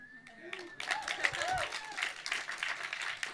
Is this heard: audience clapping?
yes